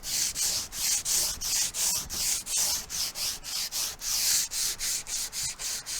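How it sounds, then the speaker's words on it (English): Sandpaper rubs back and forth along the grain of a wooden nightstand, stripping old finish in a regular rhythm of about two strokes per second, close and crisp with no talk. "Now I'm just going to be sanding back and forth with the wood grain"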